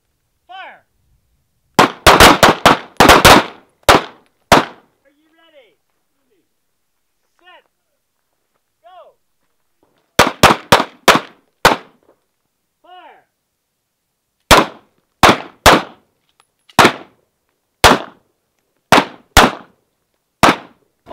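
Firearms fired on an outdoor shooting range in sharp, loud volleys, several quick clustered shots in groups separated by pauses, with a few fainter distant reports between them.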